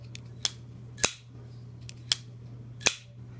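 A Spyderco Rubicon folding knife flicked open and shut, giving about five sharp metallic snaps at irregular intervals over a low steady hum.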